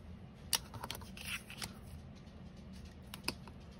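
Scissors snipping through paper while making an envelope booklet, a few crisp, sharp cuts spaced irregularly over quiet paper rustling, close up with no talking.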